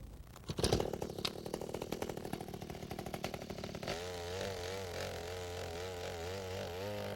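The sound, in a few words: gas-powered mini-tiller running, tilling garden soil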